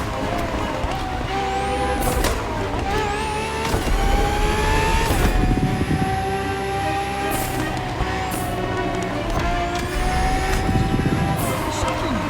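A Ferrari FXXK supercar's engine in the racing game The Crew Motorfest revs and shifts through gears, loud and close, climbing and dropping in pitch several times.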